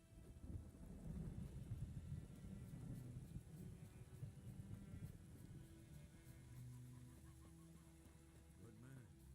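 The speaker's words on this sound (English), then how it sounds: "A storm, damn it." Thunderstorm in the video game Witcher 3: a low, continuous rumble of thunder with rain runs steadily throughout, with a few faint tonal sounds near the end.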